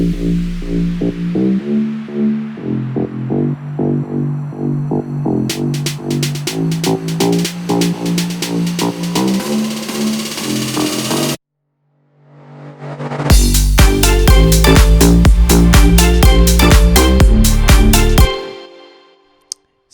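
An electronic bass breakdown and build-up from an FL Studio track, using a Spire synth bass patch: pulsing layered synth chords and bass, a brief near-silent gap, then a louder, denser section with heavy bass that fades out at the end.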